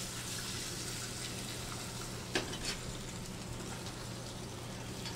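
Large shrimps go into a hot pan beside cooking fish and sizzle steadily, with a couple of brief clinks partway through, close and continuous.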